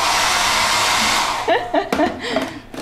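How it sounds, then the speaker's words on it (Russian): A hair dryer in a holiday rental bathroom in Olenevka, Crimea, runs with a steady, loud whooshing hum, then cuts off partway through, after which a few voices talk. "Фен тоже есть, и он работает."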